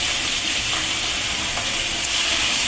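Browned onions fry in a pan as ginger garlic paste goes in for a birthday biryani, giving a loud, continuous sizzle and crackle with no talking.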